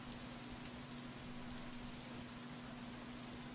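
Steady rain falls on surfaces in the visual novel Katawa Shoujo, a constant dense hiss of drops that holds evenly throughout with no voices.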